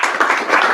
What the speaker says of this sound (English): you can give him a big applause